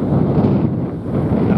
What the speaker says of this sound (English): So windy, it's ridiculous.